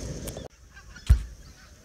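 Pink-footed geese flying overhead in a flock at a coastal birding spot, giving a couple of brief, distant honking calls against quiet ambient wind.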